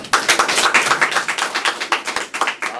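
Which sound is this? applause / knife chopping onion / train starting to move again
applause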